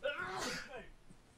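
Someone sneezes once, sharply, in a quiet room during a football podcast conversation, a short burst that trails off into quiet.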